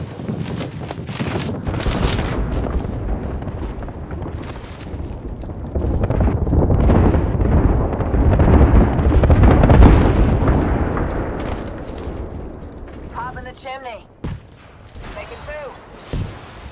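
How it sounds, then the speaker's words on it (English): Airstrike explosions in Apex Legends, a rolling series of heavy booms and bursts building to a sustained roar, then fading into scattered pops, with game voice lines heard over the blasts. "Heads down. Airstrike danger close."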